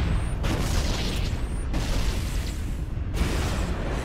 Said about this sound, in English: I'm gonna hit this guy with a grenade also